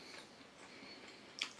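Crunchy bite of a Svenska Kakao Uganda 72% dark chocolate bar with fruit pieces: soft chewing throughout, then one sharp, close crack near the end.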